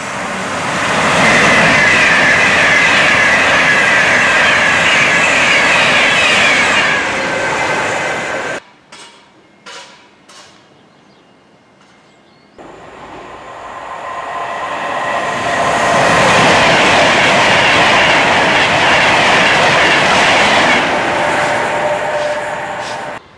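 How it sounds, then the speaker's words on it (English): A train thunders past at Rugeley Trent Valley railway station, loud and close with a roaring rush and wheel noise. A quiet gap with a few clicks follows before a second train swells back to full roar. "We're just now leaving Rugeley Trent Valley railway station."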